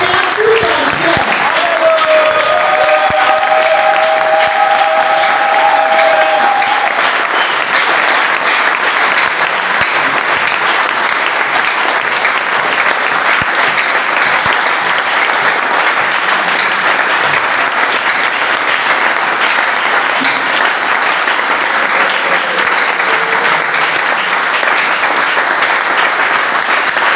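A church congregation claps and cheers in sustained, loud applause during a Sunday service, a dense unbroken wash of hands that carries on steadily throughout, with a brief tonal voice or instrument rising faintly near the start.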